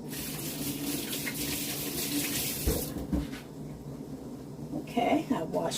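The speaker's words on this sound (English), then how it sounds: "Okay, I wash my hands." Tap water runs steadily into a kitchen sink while hands are washed, a continuous splashing rush with brief shifts and gurgles as the stream is interrupted, and a voice speaks over it.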